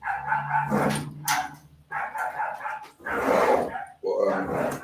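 A dog barks outdoors in several bursts, loud and fairly near, with a voice talking in between.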